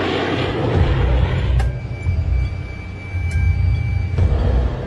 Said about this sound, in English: As the two fighter jets approach